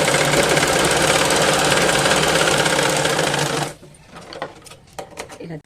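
A sewing machine runs steadily and loudly, stitching a baby's palazzo pant, then stops abruptly partway through, leaving faint handling clicks and rustles.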